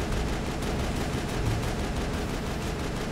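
Sustained gunfire against geth in Mass Effect, a dense unbroken barrage of weapon fire filling the scene at steady loudness.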